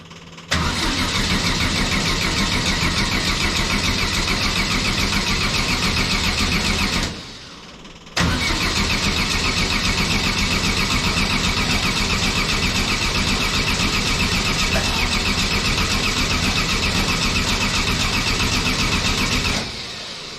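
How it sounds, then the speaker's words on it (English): An engine cranks on its first start-up attempt in two long, loud, continuous bursts with a short silent break between them, but it never catches. "So we're going to go for first start up here."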